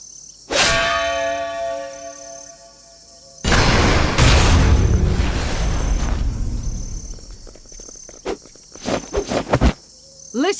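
A bell in Octopath Traveler II rings out with a sharp metallic strike and long shimmering decay, followed by a heavy booming clang that rumbles for seconds, then a few quick percussive hits.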